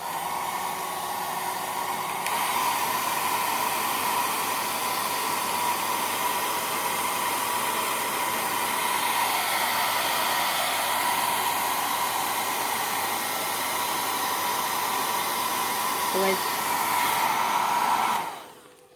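A hot air blower runs steadily and loudly to heat a sticker on a bicycle so it can be peeled off, a continuous airy roar lasting many seconds before it cuts off abruptly.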